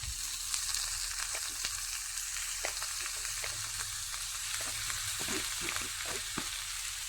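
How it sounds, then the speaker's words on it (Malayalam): Beaten egg is poured into a hot pan with chopped leaves and stirred. A steady sizzle of frying runs throughout, with soft scraping strokes from the stirring. "ഇനി നമുക്ക് ഇതിലേക്ക് മാറ്റി വെച്ച മുട്ട ഇട്ട് കൊടുക്കാം."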